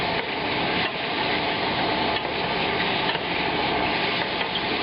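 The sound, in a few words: shallots frying in a hot pan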